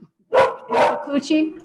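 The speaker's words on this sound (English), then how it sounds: "Yes, my apologies for the dog." During a town council meeting held over a call, a dog gives two close, sharp barks, followed by a person speaking.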